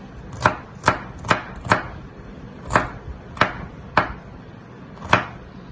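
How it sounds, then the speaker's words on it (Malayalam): Knife chopping ginger finely on a cutting board, eight crisp separate thuds at an uneven, unhurried pace, close and fairly quiet with no talk. "ഇഞ്ചി, അത് നമുക്ക് ചെറുതായിട്ട് ഞുറുക്കി കൊടുക്കണം"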